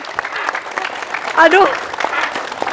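Studio audience clapping for a football coach, a moderate patter of hands under a brief exclamation and some talk, uneven and fairly close.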